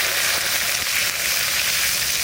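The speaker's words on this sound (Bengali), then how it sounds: "সামান্য তেল আছে, ওই তেলের মধ্যে দুটো লঙ্কা আর কটা জিরে ভেজে রেখে দেবো।" Green chillies and cumin seeds frying in a little oil, a steady close sizzle and crackle that holds even and loud throughout with no voices.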